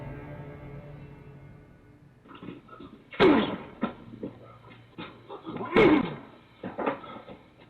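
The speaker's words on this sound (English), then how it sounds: "repeatedly slamming himself into the front door of a house" Man in a bandana hurling himself against the front door of a house, two heavy booming thuds a few seconds apart with rattling after each, amid low background noise and a brief whimper.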